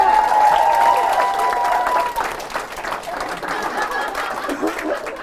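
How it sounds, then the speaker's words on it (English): Dense, loud audience applause at an engineering community event, a continuous wash of many hands clapping with some voices and cheers mixed in. "give another round of applause"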